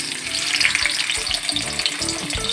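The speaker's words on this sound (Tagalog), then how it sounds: "So, next, we're going to fry this one. Burger buns." Burger buns frying in a pan for a homemade hamburger make a loud, close, continuous sizzle with crackling spatters and occasional scraping stir sounds, and no talk.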